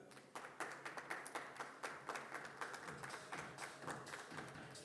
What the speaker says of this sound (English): A round of applause for Amit Singhal.